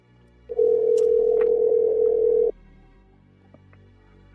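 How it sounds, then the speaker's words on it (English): A phone gives one steady two-second electronic tone, loud and close, followed by quiet room sound and a few faint clicks. "That sounds like my phone."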